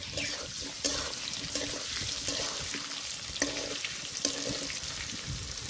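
Potato pieces seasoned with salt and turmeric fry in a pan with a constant close sizzle, broken by regular scraping stirs that rise briefly above the hiss.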